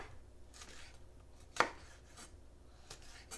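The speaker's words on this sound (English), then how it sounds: "We're gonna slice up the red peppers." A kitchen knife slices through red pepper on a cutting board: one crisp, close cut stands out, with a few fainter strokes around it and no talking.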